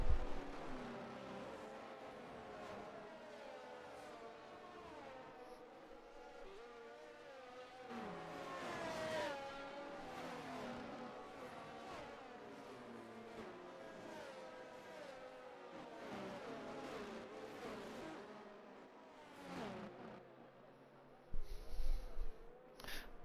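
Race cars on the Monza circuit during a restart in an ERC Masters round, engines roaring and revving as a string of cars sweeps past in repeated surges, fading out before a brief loud rumble near the end.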